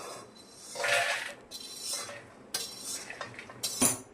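Roasted moong beans are scraped from a pan onto a plate, a series of close metallic scrapes and clinks of a spoon against cookware with short pauses between strokes.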